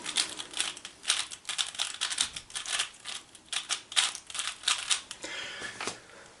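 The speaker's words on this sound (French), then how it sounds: "je vais refaire mon cube pour le remélanger" A Rubik's cube being scrambled with quick face turns that make dense, irregular plastic clicks, close up and fairly quiet, with no talking.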